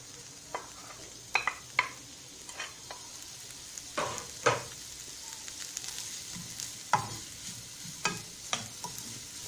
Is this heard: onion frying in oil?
yes